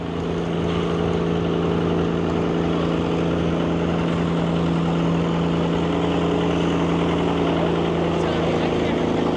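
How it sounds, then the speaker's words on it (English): A loud, steady engine drone from a pony motor starting an old diesel Caterpillar tractor at an antique machinery show, with a constant low hum and rough mechanical rumble, sustained throughout, with some speech mixed in beneath. "They're using a pony to start up a diesel over there."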